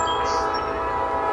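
Local freight train led by an SD40 diesel locomotive passing close by, a loud steady engine drone with dense rail rumble and a brief high horn-like tone near the start.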